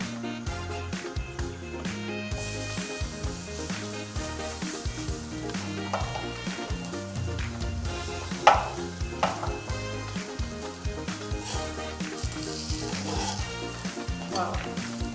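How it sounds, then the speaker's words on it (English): Potato pancake batter fries in cooking oil in a pan for a Korean dish, giving a steady sizzle throughout that sits under prominent background music. "We'll put some cooking oil on the pan and we will fry it just like we fry pancakes"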